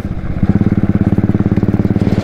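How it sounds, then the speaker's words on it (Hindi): A tractor engine chugs loudly and steadily close by while being overtaken on a road, its rapid even pulses continuing throughout with no talk. "ट्रैक्टर को पार करते हैं भाई।"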